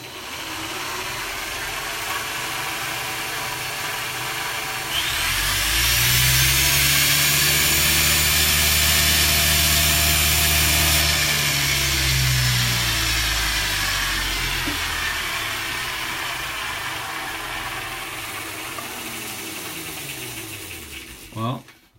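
A car engine on a dyno climbs through a long, loud revving pull from about five seconds in, its pitch sweeping up and then falling back to a steady run, with a brief speaking voice.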